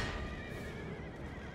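A horse neighing in the Empire: Total War battle game, one drawn-out whinny over constant loud battlefield noise with no talk.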